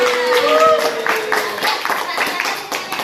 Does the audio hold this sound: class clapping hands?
yes